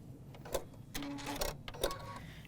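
A sewing machine stitches a quarter-inch seam through quilt patchwork in a few short, close bursts of whirring with brief pauses between them.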